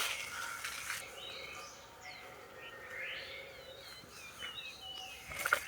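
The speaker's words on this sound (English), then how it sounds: "We woke up to the sound of Japanese birds." Birds chirping and singing in the early morning in Japan, with scattered short calls and warbles at moderate distance over a quiet background, a few brighter chirps near the end.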